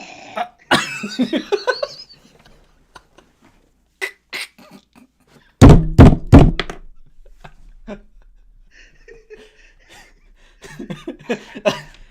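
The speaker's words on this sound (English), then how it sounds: "The decoy coughs up a loud hairball." Several short, harsh hacking coughs and throat sounds, including a loud burst of wet retching gags, with quiet gaps between them.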